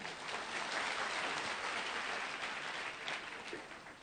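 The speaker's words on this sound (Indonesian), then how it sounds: "tepuk tangan buat mereka" Congregation applauding during a Sunday church service, a dense wash of clapping that swells and holds for a few seconds before tapering off, heard from within the hall with no talk over it.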